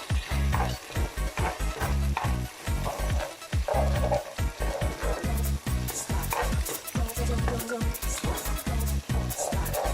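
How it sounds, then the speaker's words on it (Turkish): Tomato paste sautés in a pan for a Turkish chickpea and meat stew, crackling sizzle under repeated rhythmic stirring and scraping strokes, with a voice talking over it. "Ve salçamı çiğ kokusu çıkana kadar soteliyorum"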